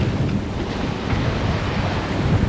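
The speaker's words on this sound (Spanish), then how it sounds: "Esta ola típica del Río de la Plata, bastante grande, de periodo corto, muy molesta, saltita, moja." Large, short-period choppy waves on the Río de la Plata during a rough sailing passage in strong gusty wind, a loud continuous wash of water and wind buffeting close to the boat.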